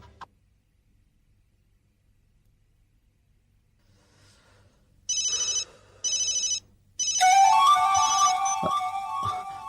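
A cell phone ringtone in a suspense drama scene: after a quiet stretch, two short electronic ringing bursts sound, then a louder continuous ringing melody carries on to the end.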